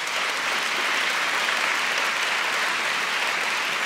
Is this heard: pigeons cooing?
no